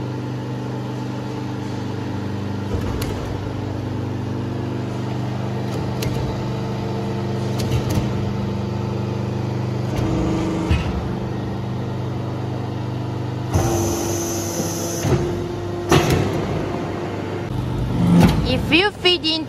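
A hydraulic press for making shisha hookah charcoal briquettes runs in manual inching mode, a steady motor hum with faint clanks, a louder mechanical burst near the end, and a voice talking over it.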